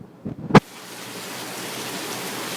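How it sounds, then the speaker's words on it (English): Mild night rain falls as a steady, even hiss that builds and holds after a brief sharp knock near the start. "Here's some night rain."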